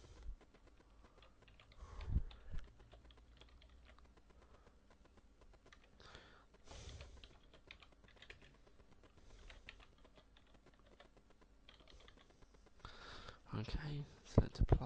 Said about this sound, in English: type in my full name